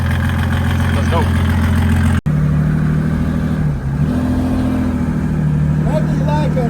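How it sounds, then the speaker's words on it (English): OM606 SuperTurbo diesel car, loud droning exhaust with a steady low rumble held close by, a brief dip midway and faint rising whistle tones of the turbo, while people talk over it. "Nothing like a nice loud exhaust in the morning with a little bit of turbo whistle"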